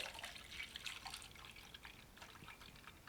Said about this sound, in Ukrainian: у нас там кава капає